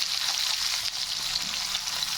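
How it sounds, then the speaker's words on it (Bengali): Potato pieces frying in oil left over from frying fish, giving a steady, close hiss of sizzling oil that runs unbroken with no talk. "ওই যে মাছ ভাজা যে তেল আছে ওই তেলে আমি ওই যে আলুটা ভেজে নেব শুধু আলুটা"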